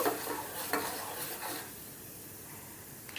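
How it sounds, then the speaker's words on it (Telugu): Tempering of cumin seeds being stirred and fried in a pan, a soft sizzle under scraping spoon strokes that fade after the first half, leaving a quiet steady fry. "ఇప్పుడు ఈ పోపుని చక్కగా కలుపుకుంటూ ఫ్రై చేసుకుందామండి"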